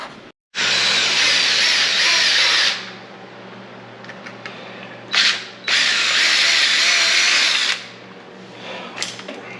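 A power drill whines loudly in two long bursts separated by short pauses and a brief blip, boring a hole in a metal strap for a Can-Am Maverick X3 battery mount, with a steady low hum in the background.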